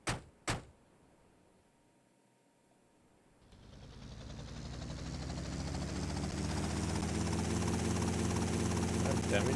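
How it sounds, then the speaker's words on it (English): Helicopter in the video game GTA: Vice City Stories, parked on a hospital roof: two brief thumps, a quiet pause, then a rotor and engine roar that builds steadily and stays loud and continuous. "There's a helicopter on the roof of the hospital. We could take that."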